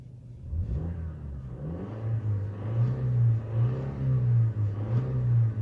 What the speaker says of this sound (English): Barely touching the gas pedal and it's getting up and go.